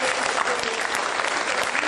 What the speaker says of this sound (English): I invite you to give a very warm applause to all of presenters